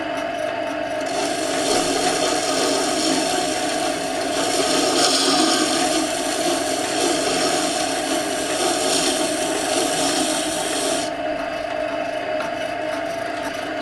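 Chisel sharpened on a Scheppach Tiger 2000S grinding wheel, a steady machine hum under a continuous rasping grind that swells and eases as the blade moves back and forth, with no talk.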